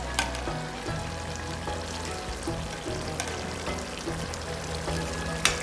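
Chicken stock poured into a hot frying pan of spiced food, hissing and sizzling steadily throughout, with faint clinks of a utensil.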